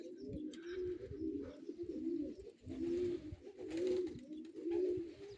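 Young homing pigeons cooing at the loft, a series of soft, low rolling coos repeated roughly every second, close and fairly quiet with no talking.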